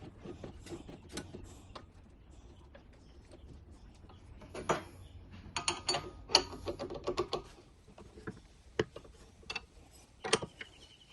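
An improvised bead roller clamped in a vise, with an old spanner on top, rolling a bead into pipe: irregular mechanical clicks, creaks and ratcheting clatter in uneven bursts, fairly close but modest in level, with no voices.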